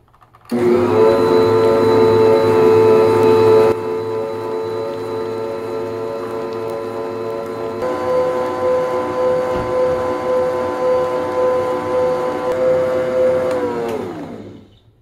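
An electric mixer running continuously through honeybun cake batter, a loud steady motor whine with a drop in pitch partway through, then winding down at the end.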